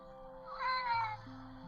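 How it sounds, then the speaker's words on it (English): A house cat gives a single clear, rising-and-falling meow, close and distinct over a faint steady background hum. "The cat says yes."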